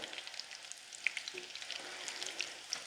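Black-eyed pea fritters frying in oil and gently pressed with a spatula, a soft continuous sizzle with small pops and crackles, faint and close.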